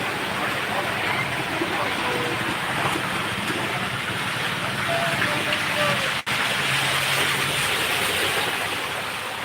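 Heavy rain pours steadily in Khuian Sarwar, Punjab, a dense continuous hiss of water with no break, loud and close.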